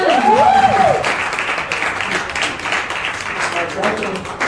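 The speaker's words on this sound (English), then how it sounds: "Can we have a round of applause?" An audience at a school felicitation ceremony claps in sustained applause, a dense steady patter of hands that continues throughout, with a voice heard over the start.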